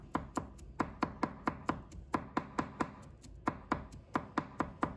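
Garlic is minced with a knife on a cutting board, a rapid, even run of about twenty sharp chopping taps, close and clear with no talking.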